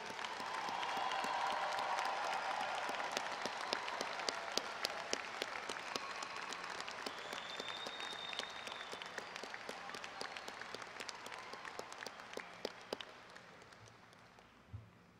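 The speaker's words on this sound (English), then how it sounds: "Please all join me in applauding the 2014 graduating class of the College of" An audience at an engineering college graduation ceremony applauds the graduating class, a long, steady roar of many hands clapping that gradually thins out and fades near the end.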